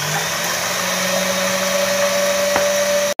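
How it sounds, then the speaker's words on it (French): An electric mixer whips egg whites toward stiff peaks for a meringue roll, giving a steady, close motor whine that holds constant and then cuts off abruptly at the end, with no talking. "Mais je commence déjà par le monter en neige."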